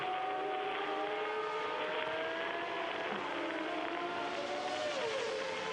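Formula 1 cars at the 1994 Japanese Grand Prix whine past in the distance, a thin, high engine drone with rising and falling pitch sweeps, faint and continuous under a broadcast wash.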